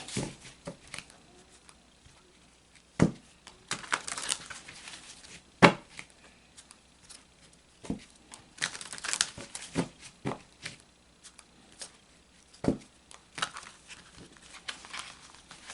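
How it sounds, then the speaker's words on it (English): Oracle cards are shuffled by hand in irregular bursts of riffling and sharp slaps, with brief pauses between and no talking. "when the cards do that, that is my tell that they are done in terms of the shuffling"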